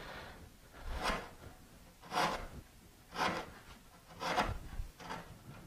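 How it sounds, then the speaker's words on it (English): A wood chisel is rocked along a rabbet, paring up a chip. Five quiet, evenly spaced scraping strokes sound close and dry against near silence. "I set the chisel down flat and I rock it in, I'm picking up a chip on the edge"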